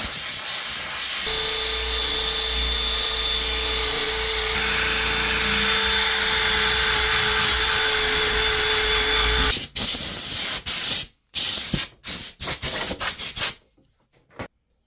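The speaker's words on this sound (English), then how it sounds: "make a pass with the wire brush attachment on the power drill, followed by a final pass with the compressed air" Wire brush attachment on a power drill scrubbing rust and debris off a mower blade, a steady loud abrasive whir for about nine seconds, then choppy bursts and stops close up with no voices.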